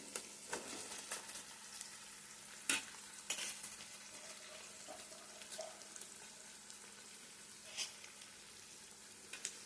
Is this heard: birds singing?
no